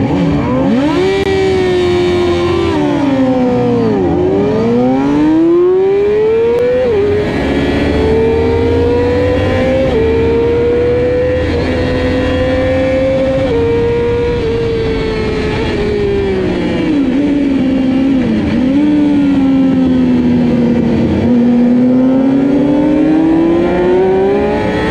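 Racing motorcycles, 600cc and 1000cc bikes on a track, with a loud engine held close that rises and falls through gear changes and revving, and other bikes audible around it throughout.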